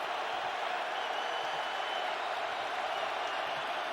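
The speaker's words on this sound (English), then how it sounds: "Crowd roaring" A stadium crowd at a Cowboys at Vikings NFL football game gives off a steady, broad roar that holds level for several seconds, loud and unbroken, with no distinct voices rising out of it.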